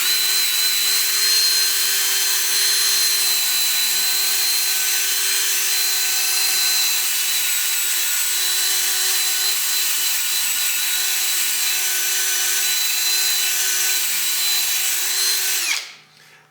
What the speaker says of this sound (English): I'm going to hit it with this abrasive brush. It's got grit that's impregnated in these, and it gets rid of all the fuzzies and stuff.